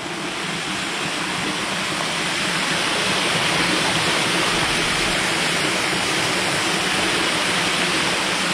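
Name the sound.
waterfall water flowing out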